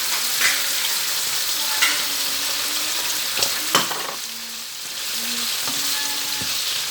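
Shrimp sizzling steadily in a hot pan with spices, broken by sharp scraping clicks of a utensil stirring now and then, close and fairly loud with no voices.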